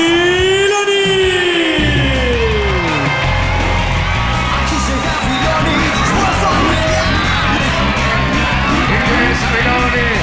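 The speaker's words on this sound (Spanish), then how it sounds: "la moto ruge y ruge el público" A motorcycle engine revs and roars loudly inside a wrestling television studio as a rocker wrestler enters, the whine rising and falling over a cheering, yelling crowd throughout.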